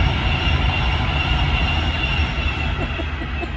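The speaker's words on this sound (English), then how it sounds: "sorry, trains." A train passes near a narrowboat mooring, giving a steady, loud, continuous rumble that fills the whole stretch with no one speaking.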